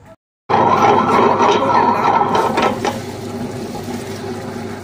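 Wet grinder churning soaked rice with water into batter for Karnataka-style thatte idli, a steady loud whirring roar that starts abruptly after a brief silence and runs continuously, with a slight drop in level near the end.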